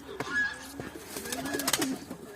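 Pigeons cooing nearby in a loft, soft repeated coos with faint chirps and light rustling, some brief clicks and movement noise mixed in.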